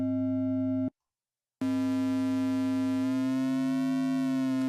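An Omnisphere ring-modulated synth tone built from two sine-wave oscillators holds a steady pitch, cuts out briefly to silence, then returns, its sidebands sliding gently upward toward the end.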